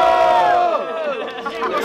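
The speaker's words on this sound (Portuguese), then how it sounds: "Quem gosta mais das rimas do Tito, faz barulho" A live crowd at a student rap battle roars, cheers and shouts continuously in a dense, loud wash of voices, with rising whoops and a chant-like swell throughout.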